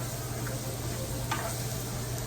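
A spoon stirs sauce in a small pan on the stove, a soft steady sizzle with a faint scrape or two, close and continuous beneath a low hum.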